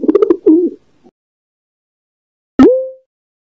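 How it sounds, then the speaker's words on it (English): A pigeon coos in a quick burst of low warbling notes, then silence before a short sharp tone. "Pigeon."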